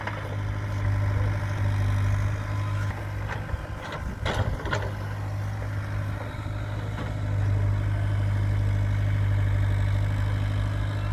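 A tractor engine idles steadily in the open with a deep, constant low drone and a faint rumble, running alone without any talk.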